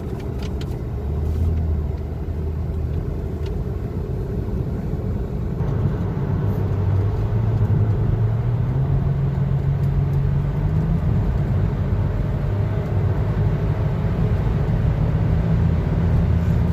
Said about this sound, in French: Des voitures allemandes qui se suivent.